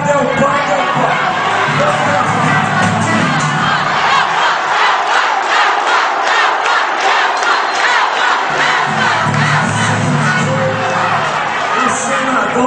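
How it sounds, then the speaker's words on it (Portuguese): A large crowd at a PMDB party convention in Jardim do Seridó, Rio Grande do Norte, shouts a rhythmic chant of "é o padre" again and again, loud and continuous for the whole stretch, with the words repeating in a steady pattern. "Eu quero que vocês digam: é o padre, é o padre, é o padre."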